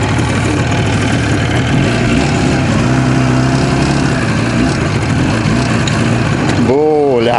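An IZh Yu5 motorcycle runs on its first ride with a passenger aboard, a loud, steady engine drone filling the whole stretch, with a voice rising over it near the end.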